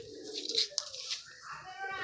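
Andhra pigeons coo softly in a loft in Kolkata, with a brief rustle and a faint background voice.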